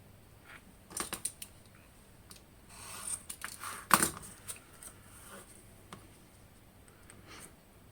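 Scissors snip through photo negatives for a junk journal: a handful of sharp, close clicks and short cuts spaced irregularly, with a louder cluster in the middle and quiet room tone between.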